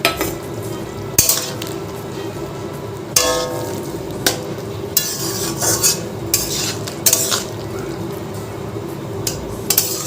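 A spoon stirs a ground mustard and poppy seed paste into a dish in a pan, producing repeated loud scraping strokes and clinks of metal against the pan over a faint sizzle.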